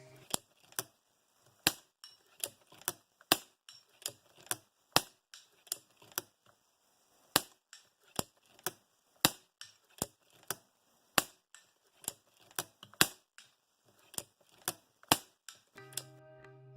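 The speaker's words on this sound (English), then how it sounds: "The lever action is smooth and effortless." Red Wolf electronic lever-action air rifle firing shots in quick succession, a steady run of about twenty sharp, close cracks spaced under a second apart with a brief pause midway.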